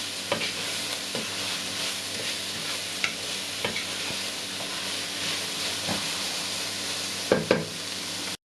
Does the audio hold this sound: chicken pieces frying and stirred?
yes